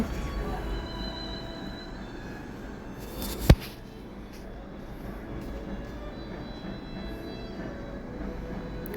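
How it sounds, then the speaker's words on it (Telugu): A steady low rumble of a Dubai Metro train running on rails near Discovery Gardens, with one sharp clack partway through and a constant mechanical hum throughout. "డిస్కవరీ గార్డెన్స్ దగ్గర ఆగుతుంది ట్రైను, మళ్ళీ అక్కడి నుంచి మూవ్ అవుతుంది అనమాట"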